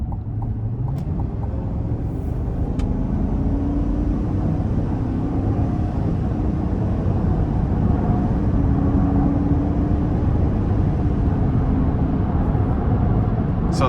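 Inside a 2024 Chevrolet Tahoe RST with the 5.3 V8, the engine pulls at about a third throttle, a steady low cabin rumble with a smooth tone slowly climbing in pitch, accompanied by road noise.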